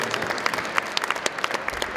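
An audience at a meeting with culture and arts workers applauds vigorously, a dense burst of clapping from many hands that fills the moment without talk.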